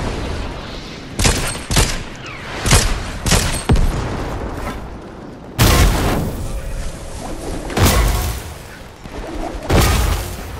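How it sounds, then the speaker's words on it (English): Rocket launchers fire in Fortnite, loud booming blasts and explosions arriving in irregular bursts, some overlapping, with heavy low rumble. "They're shooting rocket launchers at you."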